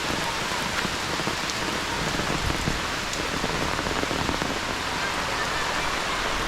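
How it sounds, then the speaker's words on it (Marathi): Heavy rain pours steadily and loudly, a dense unbroken hiss of drops hitting surfaces with no voices. "अशा प्रकारे मुसळधार पावसाची हजेरी आहे"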